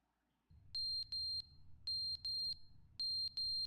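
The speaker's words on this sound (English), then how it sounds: "That's like a fire alarm thing." Loud electronic beeping like a smoke or fire alarm in The Stanley Parable Ultra Deluxe, with sharp, high beeps in pairs and triplets over a low hum and no talking.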